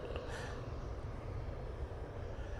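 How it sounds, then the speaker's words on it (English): An Emirates airliner's jet engines roar faintly and continuously from a distance as it departs Manchester Airport in low visibility. "Emirates then departing. Right now, 7-3. Lined up, ready to go."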